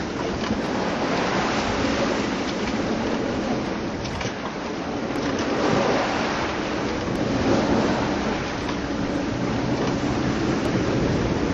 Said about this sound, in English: It's a bit like Holly Head sailing, but with slightly bigger waves.